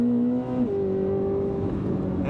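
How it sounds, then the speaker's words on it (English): A 2026 Chevy Corvette ZR1 engine pulls hard out of a curve, heard from inside the car. It gives a strong, rising drone that shifts pitch partway through as the revs change and stays loud and continuous, with no talking. "The responsiveness of this engine out the back end of a curve is just insane."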